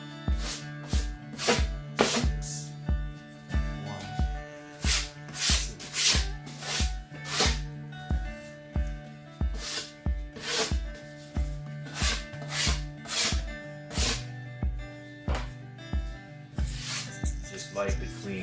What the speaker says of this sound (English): I'm just gonna knock off the loose stuff on the bottom side with my little sander board